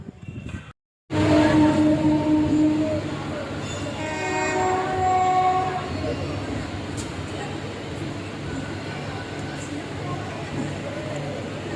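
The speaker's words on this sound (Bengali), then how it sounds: "তো এখন যখন ট্রেন ঢুকবে, পূর্বস্থলী আছে ট্রেনটা" A train pulls into Purbasthali railway station with a loud, sustained rumble, and several horn blasts sound over the din near the start. Voices are faintly audible underneath.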